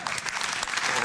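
Audience applause follows a stage introduction of an author, a brief continuous wash of many hands clapping, moderately loud, with a voice speaking over it.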